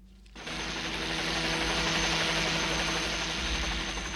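A helicopter in flight starts up abruptly after a short quiet moment and then holds a loud, steady rotor and engine roar, close and continuous, with no voices over it.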